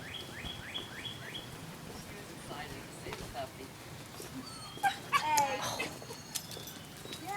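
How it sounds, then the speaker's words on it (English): A neighbor's puppy yelps and barks a few times outdoors at moderate distance, with birds chirping and a person talking over the garden background. "That would be the neighbor yelling at her dog,"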